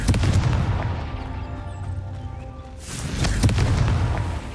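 The Confringo blasting spell in Hogwarts Legacy bursts with a heavy, booming explosion, followed by a long rumbling decay, then a second loud blast rolls out near the end.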